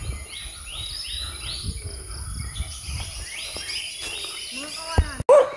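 Birds chirping and insects buzzing in mountain forest, several bright twittering calls over a steady high cricket drone, fairly close, ending in a louder burst of calls and a sharp knock.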